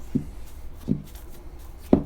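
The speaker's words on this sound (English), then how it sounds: "So we're just going to knock that rise back out of it." Three dull thumps spaced evenly apart, soft and muffled, as a fist knocks back proofed focaccia dough on a counter.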